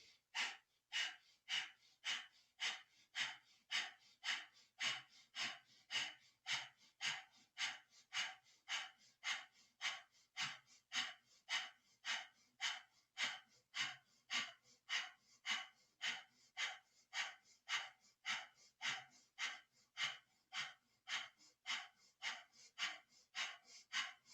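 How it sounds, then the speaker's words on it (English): Kundalini yoga breath of fire during a back-healing class: fast, forceful rhythmic breaths through the nose, evenly paced at roughly one and a half per second, sustained for the whole stretch, close and clear with no talking. "and then breath of fire"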